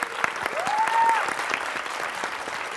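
An audience at a talk on trans and nonbinary allyship breaks into a short burst of clapping that swells and then tapers off, with a brief whistle cutting through it.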